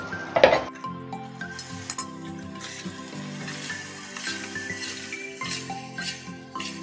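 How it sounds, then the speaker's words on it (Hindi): Rice being stirred into melted sugar in a pot over a medium-low flame for sweet zarda, with clinks and scraping of a utensil against the pot and a soft bubbling background, no talking. "अच्छे से चावलों में चीनी मिक्स करेंगे"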